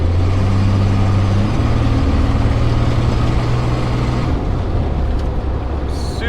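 A Chevrolet Blazer with a newly installed quiet exhaust, replacing one with exhaust leaks, drives along with a steady low engine drone and road rumble, fairly loud and continuous, easing off near the end.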